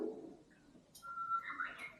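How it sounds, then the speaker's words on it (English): A recorded cuckoo call plays from a battery-operated Black Forest cuckoo clock, giving soft, faint whistled bird notes against a quiet room. "Here the recording of the cuckoo bird."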